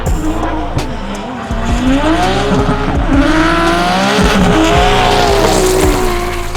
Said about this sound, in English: Liam Burke coming in hot with a bit of rubber up the side of Darren's R35